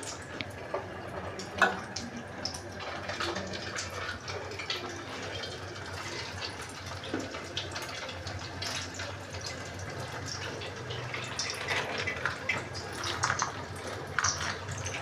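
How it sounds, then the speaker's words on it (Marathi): Potato strips for French fries fry in hot oil with a steady, dense sizzle, like bubbling water, close and even through the whole stretch. "तेल तापलं, आता आपण तेलामध्ये टाकून घेऊया."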